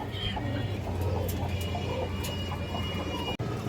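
A pair of pigeons, held among birds kept for sale, give low rolling coos close by over a steady background hum, with a sharp brief click near the end.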